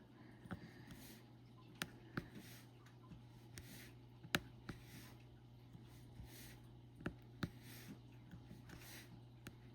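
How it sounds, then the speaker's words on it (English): Small diamond painting drills click into place between neighbouring pieces on a canvas, producing sparse, faint, sharp ticks at irregular intervals over a low, steady room hum. No one speaks. "I kind of like the sound of them kind of clicking in when they go between 2 pieces."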